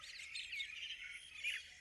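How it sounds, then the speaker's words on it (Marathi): Faint, high chirping and squawking bird calls, a continuous chatter of small birds at some distance with no voices. "हे पहा चिमणे आले।"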